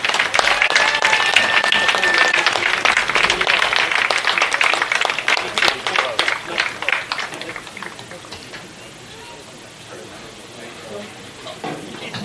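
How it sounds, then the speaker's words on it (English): Applause for softball student athletes at an NCAA South Regional game, with a crowd clapping loudly and steadily for several seconds before fading to a quieter murmur. "Let's give these outstanding student athletes a round of applause"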